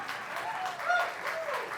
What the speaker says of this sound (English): applause already